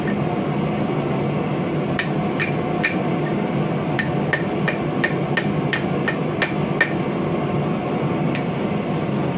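Hammer strikes on steel over the heel of an anvil while dishing and cupping, a series of sharp ringing blows in uneven bursts over a steady background hum.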